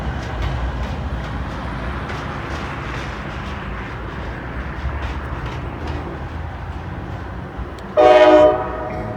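A long coal train rumbles past with a steady roar of rolling railcars and locomotive engines, an SD70ACE trailing a GE unit, and a loud horn blast sounds near the end.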